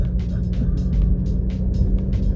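Steady low rumble of a car being driven, a continuous engine and road drone heard from inside with some faint voice sounds above it.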